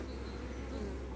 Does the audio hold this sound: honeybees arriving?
yes